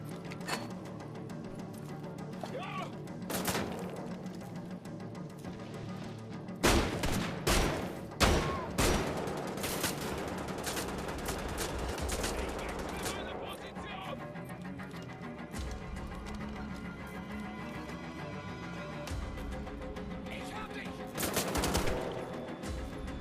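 Gunfire in the shooter game Wolfenstein: The Old Blood: dense volleys of shots cluster in the middle, with scattered single bangs before and after over a steady bed of game ambience and music.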